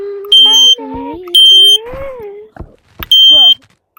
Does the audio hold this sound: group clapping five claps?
no